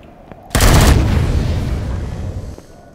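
Gunfire in the space survival game Empyrion: one loud, close blast that hits hard and then rolls off in a long roaring tail lasting about two seconds, with no voices over it.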